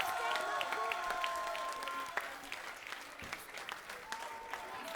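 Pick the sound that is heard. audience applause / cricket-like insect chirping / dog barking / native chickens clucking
audience applause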